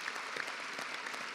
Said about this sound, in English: Maybe we'd have a little round of applause for our academic staff at MIC